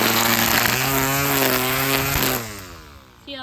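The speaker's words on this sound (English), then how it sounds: "when I come along with my weed whacker" A weed whacker re-edging grass along a new garden bed, a loud, close, whining motor buzz that holds steady, then drops away sharply near the end.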